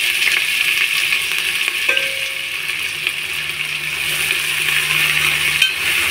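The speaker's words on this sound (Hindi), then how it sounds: "वो भी थोड़ा गर्म करने के बाद हम प्याज डालेंगे" Onions frying in hot oil for Kerala chicken biryani give a loud, steady, close sizzle that holds evenly throughout with no break, with one faint clink partway through.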